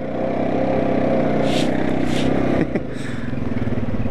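A Honda Rancher 420 ATV spinning a donut, its engine droning loud and steady throughout with gritty scraping from the tires, the pitch dipping briefly near the end.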